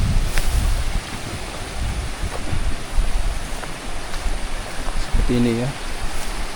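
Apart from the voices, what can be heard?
stream water flowing continuously near rice fields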